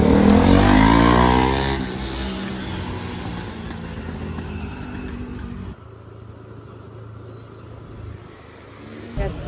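An NS motorcycle engine revs loudly up close as the bike pulls away, then settles into a lower, receding drone that drops further in volume toward the end.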